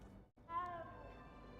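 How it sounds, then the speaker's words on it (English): A cat in the Hogwarts Legacy video game gives a single clear meow after a short pause, soft and close, with a trailing tonal tail, set against a low game background. "Little kitty. I like kitties."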